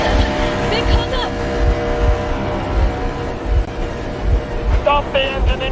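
A boat engine runs steadily in Metro Exodus, a low rhythmic chugging drone throughout, while voices talk over it.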